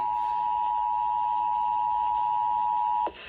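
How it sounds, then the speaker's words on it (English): Emergency Alert System attention tone ahead of a flash flood warning on a radio station: a single loud, steady electronic tone held for about three seconds, then cutting off abruptly. "2 attention tones for an FFW?"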